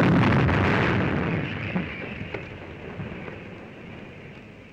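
A towed artillery gun fires on a crew chief's signal, a single heavy boom at the start that rolls into a long, fading rumble with a few faint cracks in the tail.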